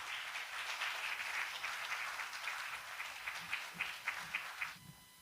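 Audience applause at a lecture event in Jeonju welcoming a politician to the stage, steady clapping from a crowd that builds to a few stronger bursts before fading out.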